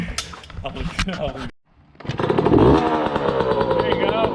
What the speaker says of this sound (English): It's the first kick bike. First kick.